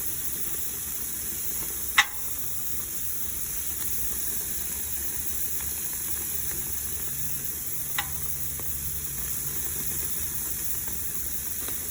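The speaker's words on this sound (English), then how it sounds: "we're going to let them cook another 3 minutes with the grill closed" Green chile burger patties sizzle steadily on a closed grill. The hiss is broadband and continuous, with a sharp click near the start and a fainter tap later. No one speaks.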